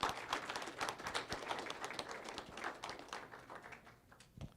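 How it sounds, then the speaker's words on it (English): Applause from a small crowd at a signing event congratulating two athletes: a quiet, dense patter of many hands clapping at a distance, fading toward the end. "Let's give them a round of applause, folks."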